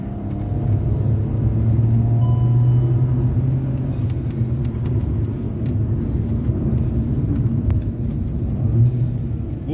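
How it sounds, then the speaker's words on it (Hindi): Steady low engine rumble and whooshing air-filter intake from a car accelerating, heard from inside the cabin with road noise and a few faint clicks over the top. "भाई पूरा एयर फिल्टर की साउंड आ रही है भाई।"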